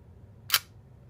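A single sharp snap of the cloth shutter on a Perfex DeLuxe camera firing, brief and close, standing alone against quiet room tone.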